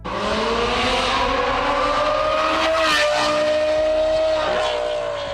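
A Lamborghini Huracan fitted with an F1-style exhaust revs hard, with a loud, shrill, rising engine howl that climbs and holds across several seconds, close up and dominant.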